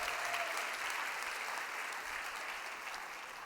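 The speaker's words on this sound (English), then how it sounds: "Give yourself a round of applause." Sustained applause from a large audience at the Great Place to Work For All Summit in San Francisco. Many hands clap in a steady, even wash that fades slightly toward the end, with no voices on top.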